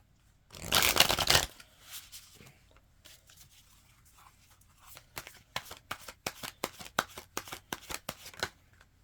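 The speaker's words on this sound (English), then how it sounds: "I guess I'll pull a couple. Spirit, what do you have to say today with these cards?" Tarot cards being shuffled, starting with a loud riffle burst, then quieter handling, followed by a run of crisp rhythmic card flicks and slaps up close with no voices.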